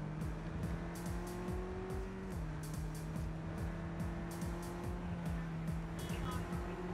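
An electric car drives in Cyberpunk, giving a steady low whine that shifts pitch partway through, under a busy road-noise bed with faint repeated ticks.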